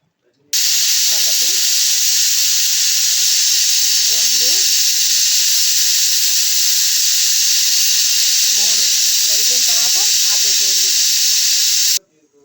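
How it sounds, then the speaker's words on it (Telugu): A pressure cooker with a rubber-sealed lid and whistle, cooking kushka rice, gives off a loud, steady hiss of escaping steam for about eleven seconds, then stops abruptly. Faint voices sit beneath it. "కరెక్ట్గా మూడు విజిల్స్ రానివ్వాలండి"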